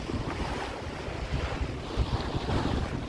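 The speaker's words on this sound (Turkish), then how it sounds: "Rüzgarımız 11 nat. Apaz. Tekne koşuyor." A sailboat running downwind in an 11-knot breeze on the Pacific, with a steady rush of wind across the microphone and waves washing along the hull, loud and continuous with no voices.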